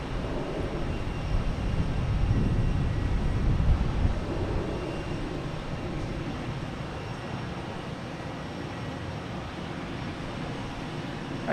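An airliner takes off at Boston Logan Airport, its distant jet roar swelling to a peak early on and then settling into a steady, fading rumble.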